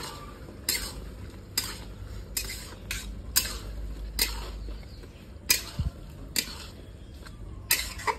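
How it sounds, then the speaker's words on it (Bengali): Potatoes stirred and fried in a gravy in a pan for a fish curry with potato and eggplant, giving repeated scraping clinks of a utensil against the pan over a low steady sizzle, close up with no talking. "এবারে আলু দিয়ে দেবো, বেগুন এখন দেবো না, বেগুন পরে দেবো। আলুগুলোকে ভালো করে গ্রেভির সঙ্গে কষে নেবো।"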